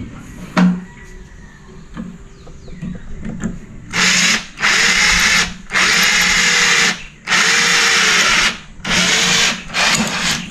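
A power drill whirs in five or six loud bursts with short pauses between, preceded by a few quiet clicks and handling knocks.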